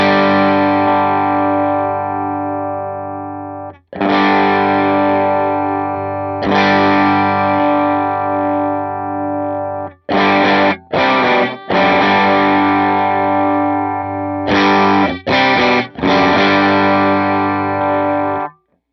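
Electric guitar played through an HX Stomp overdrive preset, heard as loud, close sustained distorted chords, the first few held for several seconds and later ones struck in quicker bursts, with no talking.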